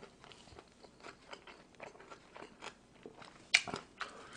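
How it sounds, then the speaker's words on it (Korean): Close, wet chewing of bossam with kimchi and rice, rhythmic smacks and crunchy bites repeating steadily, with one sharper crunch near the end. "쩝쩝대는 소리가"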